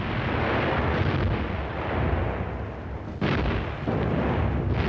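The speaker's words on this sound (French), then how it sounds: "Les canons allemands écrasent les positions ennemies." German artillery guns fire in archival wartime footage, making a continuous dense rumble of booms and blasts with a sharp new burst partway through, loud and distant-sounding.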